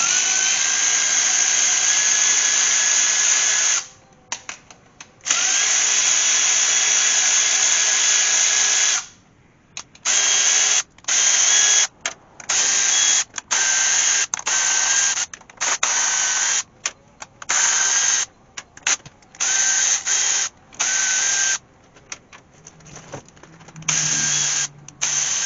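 A power tool zings out the 10 mm bolts on a GM transmission pan, a Cadillac CTS. It runs in repeated loud bursts of whirring and ratcheting, separated by short pauses, with no talk.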